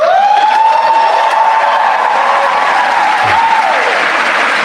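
A studio audience applauds loudly and steadily throughout, dense clapping from a crowd with a tonal whine running beneath it, and no one speaking.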